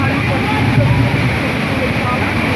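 Strong rushing water of Taytay Falls in Majayjay makes a steady, unbroken roar close by, with a person speaking over it.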